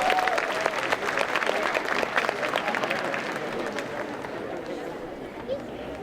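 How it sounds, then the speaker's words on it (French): Audience applause at a cosplay contest during a Japan pop culture show in Troyes, a dense crowd clapping steadily throughout with some background chatter. "On peut les applaudir."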